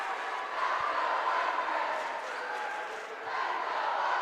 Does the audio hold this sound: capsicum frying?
no